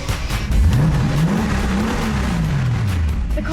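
A Mercedes-Benz G-Wagon AMG engine starts with a loud bark, then revs up and falls back in a rising and falling roar before settling near idle, heard close and loud.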